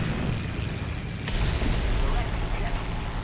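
Steady heavy rumble of a 10 kg bomb dropped on a Panzer IV tank in the War Thunder combat game, a continuous loud low roar with a brighter surge partway through, no talking.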